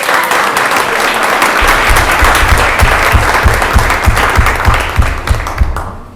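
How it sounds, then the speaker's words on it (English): At a board of education meeting, a room full of people breaks into a round of applause, dense steady clapping with some sharper individual claps, fading out at the end. "Can we get a round of applause for the parents, too?"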